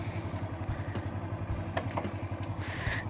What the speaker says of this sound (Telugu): స్టార్ట్ అయిన తర్వాత మనము క్లచ్ పట్టుకొనే గేర్ వేయాలండి.